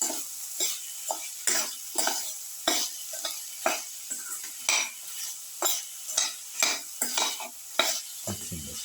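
A spoon stirs and mixes a winter melon and bottle gourd yogurt salad in a bowl, giving repeated close scraping strokes in an uneven rhythm that stand alone and loud over a quiet background.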